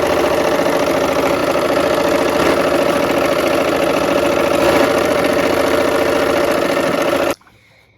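A sewing machine stitches quilt pieces for flying geese blocks along a scant quarter-inch seam, running as a steady, close, continuous whirring hum that stops abruptly near the end.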